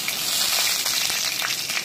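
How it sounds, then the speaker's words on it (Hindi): Steady crackling sizzle of bay leaf, cinnamon, cloves and cumin frying in hot oil for a tempering, dense and continuous throughout, with no voices. "तड़का डालेंगे। देखिए दोस्तों, तड़का जल गया है"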